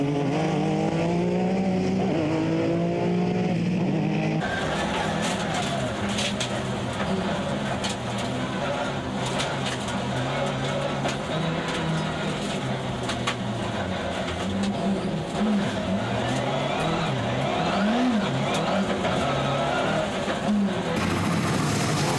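A rallycross race car runs a British Cross super final at Pembrey, heard onboard as a loud, continuous engine roar whose pitch rises and falls with gear changes and throttle, with no clear talking.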